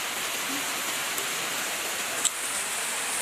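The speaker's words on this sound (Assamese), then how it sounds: "বৰষুণ দিছে।" Steady rain hisses evenly, a dense wash of falling drops with one brief louder drip near the end.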